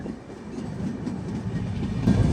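A long-distance Kumbh Mela special train from Prayagraj to Visakhapatnam rolls along the rails near Raipur station, giving a steady low rumble with soft clickety-clack from the wheels, continuous and fairly close, with no talking.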